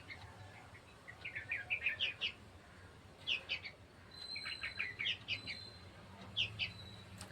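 A small bird chirps in quick clusters of high, sharp tweets, repeated several times with short pauses. The calls are fairly faint against a quiet background.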